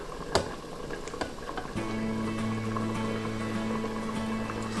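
A pot of egg drop-style soup bubbling on the stove, a steady low simmer with a constant hum and a few soft clicks and pops.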